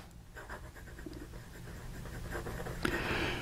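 A Yongseng 9130 fountain pen with an extra fine nib scratches across paper in short, close strokes, faint and papery, ending with a louder rustle or knock.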